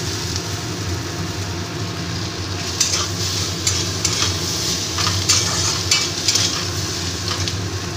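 Chopped potatoes frying with garlic and green chilli for a leftover-rice fried rice dish, a steady loud sizzle from close by, with scraping stirs breaking through in bursts.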